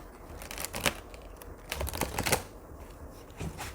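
A large tarot deck is shuffled by hand, giving uneven papery riffles, slaps and crinkly card noises in several bursts over a few seconds, close and moderately quiet with no talking.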